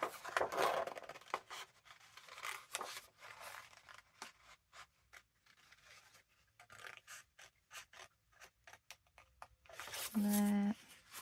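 Scissors fussy cutting around gingham-patterned paper give short snips and scratchy slices, spaced irregularly and close by, with a brief tonal squeak near the end; nobody speaks.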